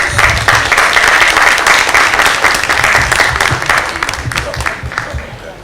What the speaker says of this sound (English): Please go ahead and give yourselves a round of applause.